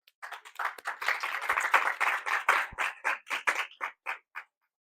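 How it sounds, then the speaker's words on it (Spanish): A classroom of students applauding a classmate, a burst of brisk overlapping claps that thins out into a few scattered final claps before silence. "Entonces deberíamos darle un aplauso a Mateo por la buena pregunta."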